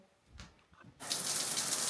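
Water running for washing starts abruptly from a tap and gushes steadily in a continuous hiss, close by, after a moment of quiet handling sounds.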